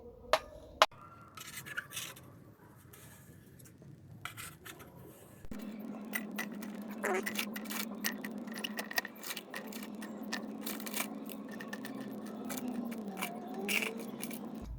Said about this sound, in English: The flea market's still going on.